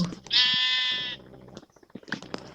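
A single harmonic sheep bleat from Minecraft-style survival gameplay rises clearly for about a second, followed by quieter clicks and small game sounds.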